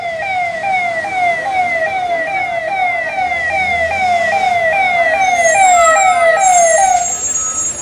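A fire engine siren wails in a steady, rapid up-and-down pattern, loud and close, as the truck rushes to a hotel fire, with road noise underneath.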